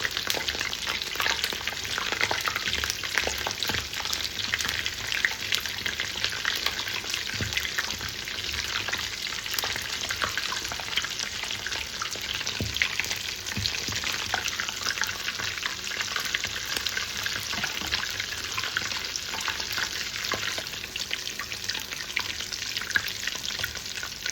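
Bread sandwich pakoras fry in hot oil with a dense, continuous bubbling sizzle that holds steady throughout, with occasional small pops and faint utensil movements.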